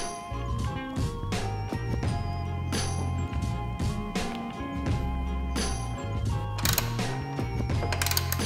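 Repeated ratchet clicks and metallic clinks keep a steady rhythm up close as bolts are driven back in on a Ducati 959 Panigale during a radiator guard install.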